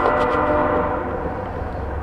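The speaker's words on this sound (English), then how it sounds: "There's always a train going by when I'm trying to video" A train going by nearby, a loud continuous rumble with a sustained horn-like tone layered on top, steady throughout with no speech.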